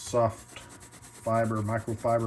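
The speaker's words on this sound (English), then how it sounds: "soft cloth and just rub it in, and it looks pretty nice." A microfiber cloth rubs oil into the dry wooden fretboard of a Fender Squier 60's Vibe Jazzmaster electric guitar, producing close, squeaky, rhythmic rubbing strokes in a few separate passes.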